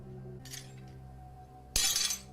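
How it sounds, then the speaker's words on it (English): Glass shatters once in a sharp, loud crash late in the clip, following a fainter tinkling burst earlier, over a steady low background hum. "Yep, that's glass."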